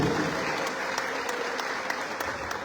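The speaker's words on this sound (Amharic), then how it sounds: "አጨብጭቡ ለጌታ ክብር።" A church congregation applauds in a continuous, dense patter of many hands, steady and moderately loud throughout with no break.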